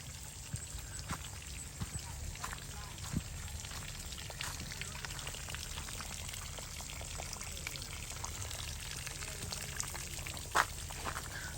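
Water runs through a newly laid irrigation pipeline out to every planting bed on a farm in Jaffna, giving a steady, fairly faint rush and trickle with scattered small splashes and drips for about twelve seconds.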